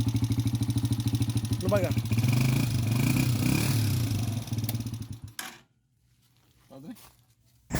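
Motoposh Pinoy 155 motorcycle engine running after rewiring to a 4-pin CDI, a close, steady, rhythmic idle with talk over it, then the engine cuts out abruptly and goes quiet.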